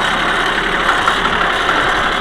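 A small tractor on turf tires idles with a steady, even mid-pitched engine rumble, loud and close, with no voices over it.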